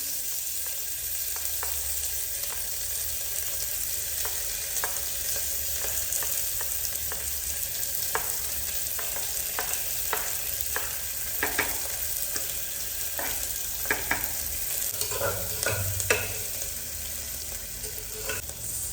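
Onions fry in oil with cinnamon, cloves and fennel seeds for vada curry, a constant hissing sizzle running throughout, punctuated by light spatula taps and stirring scrapes that grow busier toward the end.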